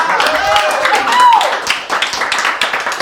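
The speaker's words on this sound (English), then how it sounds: "How about a round of applause for Will Neff?" A roast audience claps and cheers for Will Neff, a scattered burst of applause mixed with voices and chatter, close and fairly loud for a few seconds.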